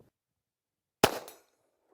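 One sharp, loud gunshot from a .40 caliber Smith & Wesson pistol fired outdoors toward a steel plate on a hillside, a single crack with a brief fading tail and quiet before and after.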